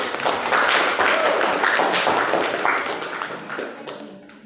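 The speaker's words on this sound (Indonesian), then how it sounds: "Berikan tepuk tangan yang silakan" A room of people claps together for a few seconds, then the applause thins out and fades away.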